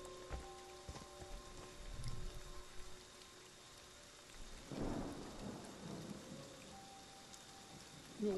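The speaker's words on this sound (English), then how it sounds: "Why is it so rainy?" Rain falls steadily in the Friday the 13th video game, with low rumbles of thunder swelling twice among faint tonal game sounds.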